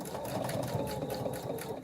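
A sewing machine runs steadily and close at hand, backstitching the start of a quilt block seam with a 1/4 inch presser foot. The hum stays continuous and even with no pauses.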